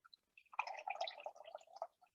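Coconut water poured from a container into a blender for a smoothie, a soft wet trickling and splashing that runs steadily for about a second and a half before tapering off, quiet and close.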